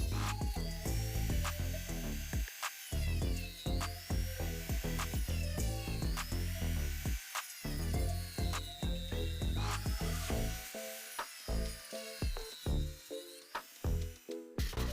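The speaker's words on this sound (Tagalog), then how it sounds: "putulin natin ang maliit na bahagi ng bushing" A small bushing is cut with a power tool, giving repeated buzzing grinding bursts with short pauses between passes, close and fairly loud, with no talking.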